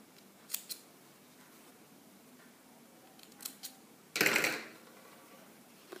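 Scissors trimming excess fabric from neckline piping: two quick faint snips early, a couple more soft clicks, then one louder, longer cut near the end in an otherwise quiet room.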